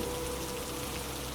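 Steady rain falls in a soft, constant patter, a dense even wash of drops with no voices or other sounds breaking through.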